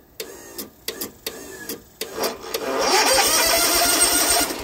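A riding lawn mower engine cranks in several short, separate bursts, then catches and runs steadily up close, with a whining, rattling note from the worn PTO clutch bearing and no talk.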